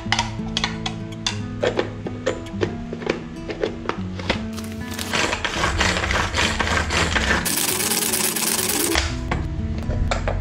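An electric machine minces raw chicken, grinding with a rapid ticking clatter that swells into a loud continuous whir and then drops back to uneven rattling.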